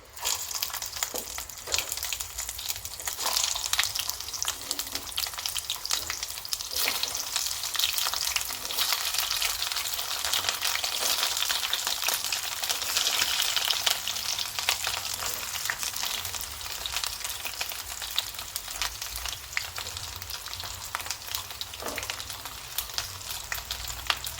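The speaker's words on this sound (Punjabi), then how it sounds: "ਤੇਲ ਆਪਣਾ ਗਰਮ ਹੋ ਗਿਆ ਹੁਣ ਆਪਾਂ ਵਿੱਚ ਪਾ ਦਾਂਗੇ ਕਰੇਲੇ" Stuffed bitter gourds (karela) frying in hot oil, a steady close sizzle with occasional stirring scrapes, continuing without pause and with no talking.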